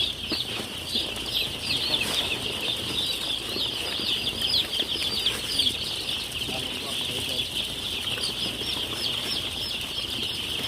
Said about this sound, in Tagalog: Manok, manok, manok, manok.